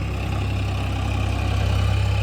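A farm tractor idles steadily nearby while being readied with a plough for clearing ground, its low engine throb pulsing evenly with no voices.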